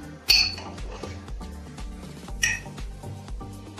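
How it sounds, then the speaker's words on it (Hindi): A metal ladle stirring cooked vegetables for pav bhaji inside a pressure cooker, giving repeated close scraping knocks and clinks against the pot, with two bright metallic clangs. "और कड़छी से चलाओ।"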